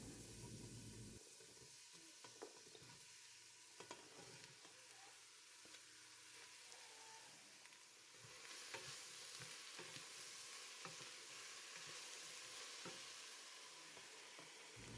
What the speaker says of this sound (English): we're going to dice up this onion and get this going first. Saute in a little bit of butter or other oil